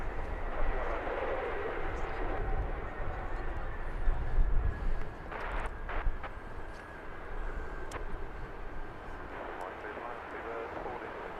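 British Airways flight 274, an Airbus A350 arriving from Las Vegas at London Heathrow, passes with a soft, distant jet rumble and faint whine beneath a talking voice, with a few brief clicks and bumps.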